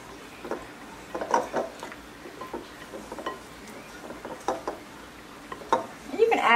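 Dill pickle pasta salad with green onions being stirred together in a bowl, soft scattered clinks and scrapes of a utensil in an irregular rhythm, fairly quiet and close.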